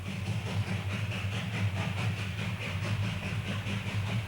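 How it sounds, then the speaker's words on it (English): A narrow gauge steam freight train runs between Gunnison and Crested Butte, Colorado in the winter of 1952, its steady rumbling roll and rhythmic chuffing filling the air with a constant hiss, heard from on board. "you're on board a narrow gauge freight train from Gunnison, Colorado to the mining town of Crested Butte"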